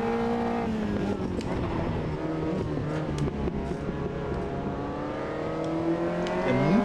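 A prototype race car in Automobilista 2 lifts off the throttle on a night race, its engine tone sliding down with crackling overrun before picking up again, loud and continuous throughout, with no voices.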